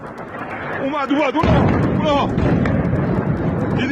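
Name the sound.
large explosions in bombing footage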